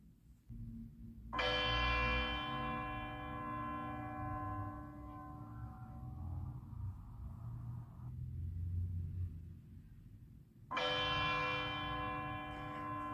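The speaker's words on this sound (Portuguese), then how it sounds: "Vamos escutar um sino que tine?" A bell is struck and rings out with a long, shimmering decay, then is struck again, over a low rumbling background.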